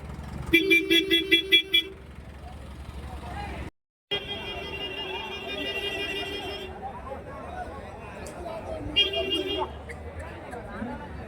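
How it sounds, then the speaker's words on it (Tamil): A vehicle pulls into a busy cattle market for calves in Karimangalam, Dharmapuri, sounding a string of short, loud horn toots, then honking again later over engine noise and a crowd talking nearby. "எல்லாம் வந்து இப்போ தான் வண்டியை உள்ளே வருதுங்க"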